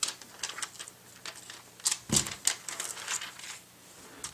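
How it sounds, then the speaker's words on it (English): Plastic wrap is peeled off a new Amazon Kindle 3 Wi-Fi model in graphite, making faint, irregular crinkles and sharp crackling snaps, close by, with a louder rustle midway and no talking. "So I'm just going to take the plastic off."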